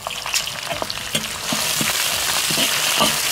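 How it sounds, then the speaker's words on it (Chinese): Garlic, ginger, dried chilies and Sichuan peppercorns hit hot oil in a wok with a loud, steady sizzle and crackle, stirred as the frying builds and swells over a few seconds, with no voices. "锅里倒点油，下入蒜和生姜，下入干辣椒、花椒"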